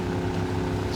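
A boat engine drones steadily at close range in Max Payne 3, a low, continuous motor rumble with no break across the brief moment.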